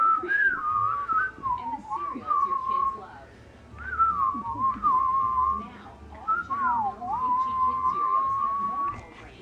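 A person whistles a wavering, unsteady tune in three separate phrases, nearby and fairly clear, with short pauses between them and light background noise.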